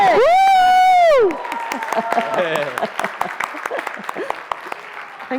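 At a learning-technology event, an audience breaks into clapping and cheering right after a loud whooping yell, with scattered claps, shouts and voices continuing at moderate level.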